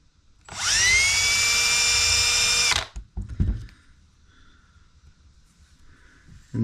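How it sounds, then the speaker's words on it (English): A small power drill spins a bit around a lead jig head, producing a loud, close, steady high whine for about two seconds that winds down, followed by a few faint clicks and handling noises. "I'm just going to run around this jig head a couple of times with this drill bit"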